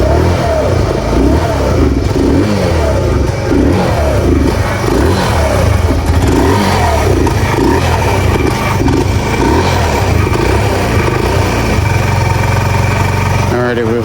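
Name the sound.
engine revving as throttle is given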